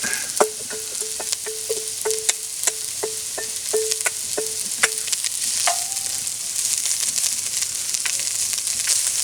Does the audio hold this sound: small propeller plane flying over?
no